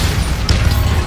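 Bombarda explosion spell cast in Hogwarts Legacy inside a tomb, a brief loud booming crash with heavy low rumble and a quick bright crack.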